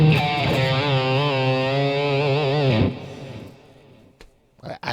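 Sustained distorted electric guitar note through a Super Distortion pickup, with heavy, gritty overdrive and slight pitch bends, ringing loudly for a few seconds before cutting off.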